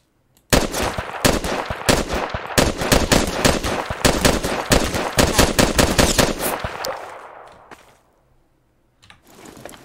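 Rapid automatic gunfire in the game Garry's Mod: a long, loud, continuous stream of shots for about seven seconds that tails off, then a couple of isolated shots after a pause.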